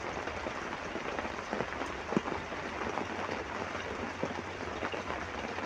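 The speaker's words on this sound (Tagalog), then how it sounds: "Hindi nyo ako masyadong marinig kasi umulan dito. Kita nyo? Tumutulo." Rain falls and drips outside on a cold morning in a dense, steady patter, with a few louder drops standing out now and then.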